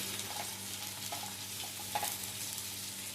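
Onion, green chillies and garlic frying together in a pan for a paneer gravy, a steady soft sizzle with a few faint stirring clicks, close and unbroken, with no talk over it.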